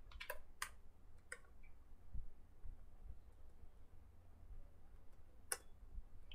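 Faint, sparse clicks of a computer keyboard as CSS code is typed, a few quick keystrokes at the start and one near the end, alone in a quiet room.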